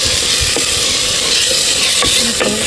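Drumstick vegetable masala with tomato stirred in a pan over a wood-fired village stove: a loud, close, continuous sizzle with scraping spoon strokes and a few sharp clinks.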